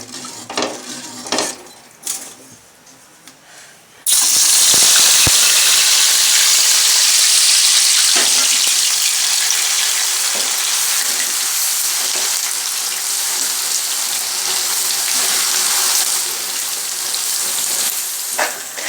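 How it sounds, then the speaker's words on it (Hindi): Semolina tipped into a pan for sweet halwa sets off a sudden loud sizzle that carries on steadily while a spoon stirs and scrapes, after a few light clinks before the pour, with no voices. "अब हम इसमें सूजी शामिल कर देंगे।"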